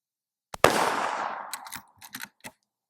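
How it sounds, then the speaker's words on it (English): A Henry Big Boy Steel lever-action rifle chambered in .41 Magnum fires one sharp, loud shot outdoors at a range. The report echoes and decays, followed by a few quieter clicks and knocks. "Let's see what this rifle can print and how good of a group we can get with the 5-shot group at 50"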